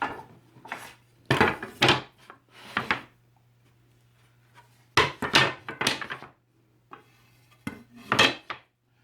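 Clamps being loosened and wooden boards for a rustic wood flag tipped back over on a workbench, giving several bursts of knocking, scraping and clattering wood and metal with quiet gaps between them, close and fairly loud.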